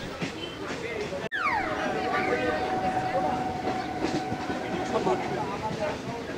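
Kolkata local train running from Dumdum to Majerhat past Kumortuli, a continuous rumbling rail roar with clattering wheels and a sharp screeching squeal early on, heard from inside with voices beneath.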